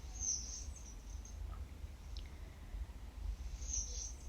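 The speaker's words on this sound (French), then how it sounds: "Les oiseaux à côté de moi, eux, ont l'air de vibrer." Faint, high bird chirps sound nearby outdoors, two short bursts at the start and again near the end, over a low, steady background rumble.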